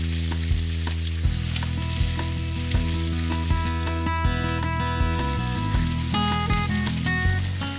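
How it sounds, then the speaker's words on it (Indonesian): Seasoning paste sautés in a pan, crackling and sizzling steadily beneath loud, prominent music, with no talking. "Kita tumis sampai harum"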